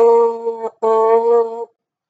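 A French horn mouthpiece buzzes two steady tones close up, separated by a brief breath, then stops.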